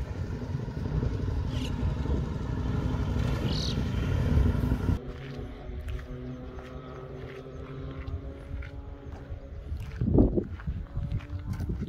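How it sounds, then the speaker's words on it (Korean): A motorcycle rides on the Grimsel Pass in Switzerland, its engine droning steadily with mixed road and wind noise, shifting to a quieter, lower hum partway through, then a brief louder surge near the end. "오토바이 타고 오면서 촬영하네."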